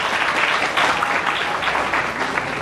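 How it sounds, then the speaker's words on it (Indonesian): Loud, steady applause from a large crowd at a pesantren graduation ceremony honoring female students who memorized Quran chapters, a dense continuous clapping wash with no gaps. "Tepuk tangan untuk putri sekalian."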